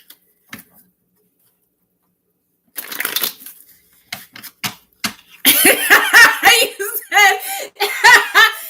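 Tarot cards shuffled in a live reading setting, giving a dense run of rapid riffling and flicking in the second half after a few scattered taps, with soft laughter and chuckling mixed in.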